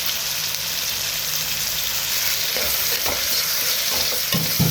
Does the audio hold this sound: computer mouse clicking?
no